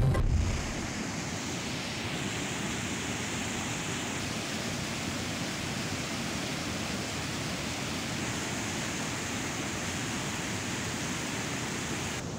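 Flooded rivers and streams swollen by water pouring down from the mountains rush with a steady, loud, broadband roar that holds unbroken throughout.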